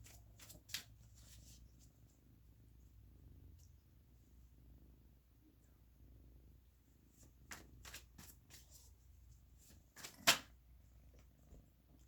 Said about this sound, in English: I was shuffling and the card kind of like flipped out and got stuck as I was shuffling